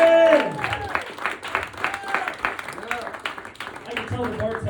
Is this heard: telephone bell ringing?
no